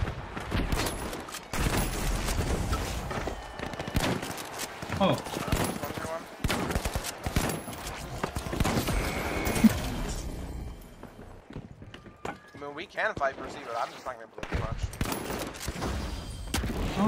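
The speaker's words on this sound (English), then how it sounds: "I'm being sniped at by the sniper too." Gunfire in the first-person shooter The Finals, including sniper fire: dense volleys of rapid shots and bursts that keep going for most of the stretch, loud and close, with a brief lull before the firing resumes.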